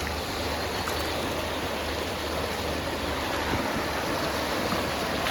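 Fast-flowing water of the Kallar river rushes steadily and close, a dense continuous roar of stream current with no voices, unbroken for the whole stretch.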